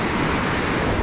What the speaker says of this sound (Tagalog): medyo malakas yung alon ngayon